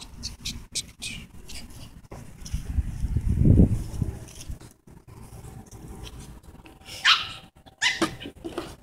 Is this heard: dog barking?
yes